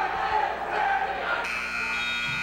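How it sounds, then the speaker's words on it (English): A buzzer sounds at a high school varsity wrestling match in the 138-pound weight class, a steady tone rising over crowd noise and shouting from the gym. "there's the buzzer"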